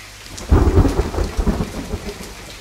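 Thunder rumbles with steady rain in the video game The Forest, a deep rolling roar over the continuous hiss of rainfall, with no voices.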